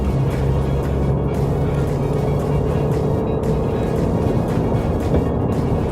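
Engine of a Mitsubishi Triton Plus Ultra 2.4 pickup with a manual-mode gearbox, heard from inside as a steady, loud, continuous drone while shifting up through third and fourth gear, with no talking.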